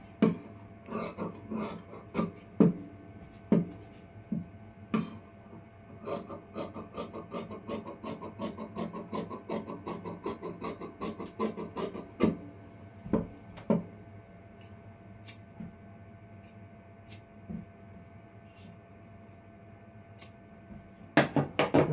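Scissors cut blouse fabric in a quiet room, a series of sharp, close snips and rasping rubs in irregular bursts with pauses between them.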